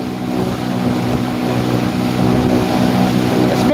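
A houseboat engine runs at full throttle on the open ocean with a loud, steady drone. Wind and water noise sit under it and grow a little louder toward the end. No one speaks.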